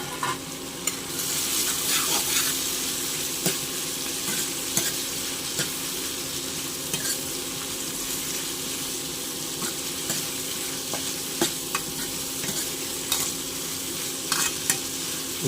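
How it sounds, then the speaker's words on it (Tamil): Bottle gourd sautéing in a pan for mor kuzhambu, a steady close sizzle broken by repeated scraping stirs of a spoon against the pan, with no voices. "நல்லா வதங்கட்டும்."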